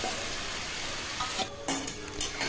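Boiled dal being stirred into a frying spice masala for dhaba-style chicken tadka, a steady close sizzle with a few scraping stir strokes toward the end, no talking.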